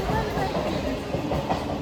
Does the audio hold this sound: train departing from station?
yes